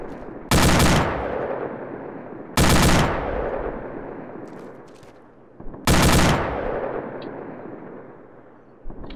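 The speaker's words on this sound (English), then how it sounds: "fire some rounds, kill some shit" Three loud bursts of automatic gunfire in Arma 2 during a convoy training exercise, each a sharp crackling volley that decays into echoing rumble, with faint distant shots between them.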